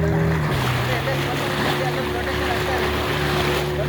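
A local boat's motor drones steadily during a river-and-sea ride near a lighthouse, with a continuous close engine hum mixed with wind and water rush.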